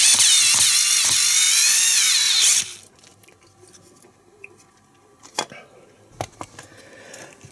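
A loud, steady whir of an INGCO CSDL10403 cordless screwdriver on its highest setting driving a screw into plywood for a few seconds, then stopping, followed by faint handling clicks and taps.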